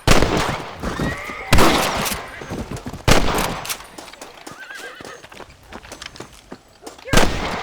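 A horse whinnies in the Red Dead Redemption video game, mixed with clip-clopping hooves and a few loud gunshot booms that echo away, all fairly near with no talking.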